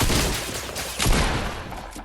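Dense bursts of gunfire from a Fortnite Battle Royale match crackle continuously and loudly, with rapid overlapping shots and a sharper volley near the middle, and no talk over them.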